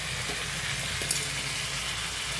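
Onion, tomato, ginger, garlic and green chili sautéing in a pan for a Kerala chicken curry, giving a steady, close, unbroken sizzle with a brief faint clink near the middle and no talking.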